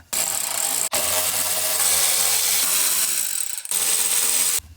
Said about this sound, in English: use a 10 mil, remove all the stock bolts